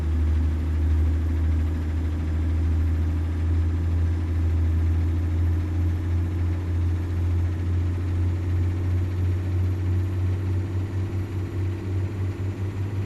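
A heavy truck engine in American Truck Simulator runs steadily with a deep, continuous droning rumble and a slight rattle, holding a constant level throughout with no voices.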